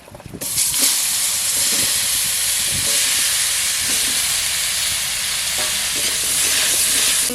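Raw plantain frying with panch phoron, bay leaf and a dried red chilli for a village-style hilsa curry, giving a loud, steady sizzle and hiss with occasional stirring scrapes and no talk.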